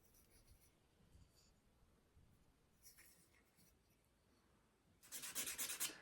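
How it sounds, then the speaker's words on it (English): Sandpaper of 180 grit rubs over a wooden slingshot frame in faint, soft scratchy strokes that turn into a louder, rapid burst of rasping sanding near the end. "I'll start off sanding this thing with 180 grit."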